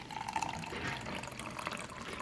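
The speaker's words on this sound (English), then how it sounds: "So we're gonna pour in the tap water." Tap water pours steadily into a laboratory beaker, a continuous splashing rush with a faint rising gurgle as the glass fills. The pour runs unbroken and close, with no voices.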